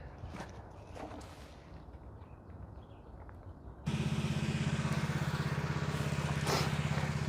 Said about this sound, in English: I got the compressor fired up in there